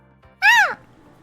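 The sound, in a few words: person imitating a cat meow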